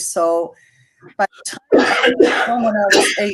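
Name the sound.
sneeze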